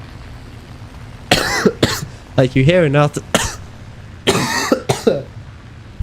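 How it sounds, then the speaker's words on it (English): Several harsh, close coughs and throat-clearing bursts come in two clusters, mixed with some speech. "I haven't coughed all day."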